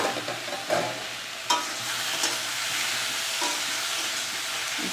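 Potato and eggplant curry being stirred in a pan, a steady frying hiss under a few distinct spatula scrapes and knocks near the start, with no voices.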